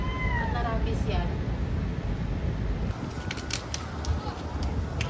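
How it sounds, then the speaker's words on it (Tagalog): A cat meows in the open air during an outing at a shopping mall, with several short meows early on over steady traffic-like background noise and people talking nearby. "Ay, pusa Chloe, oh."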